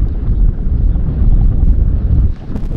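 Strong, steady wind buffets the microphone on a golf course at a downhill par three, a loud continuous low roar throughout that eases briefly near the end.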